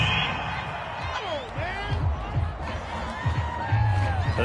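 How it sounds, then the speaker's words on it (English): A home stadium crowd at an NFL football game between the Seahawks and Cardinals roars and cheers a call, a steady loud wash of noise with whoops rising near the end, while commentators talk over it. "This home crowd, they're happy with that call."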